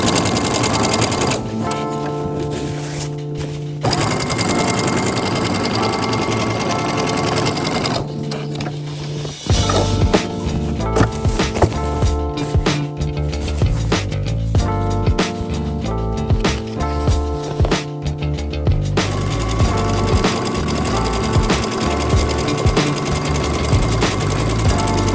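A sewing machine topstitches a fabric bag, running in loud rapid bursts of stitching separated by short pauses and clicks, close by and with no talking.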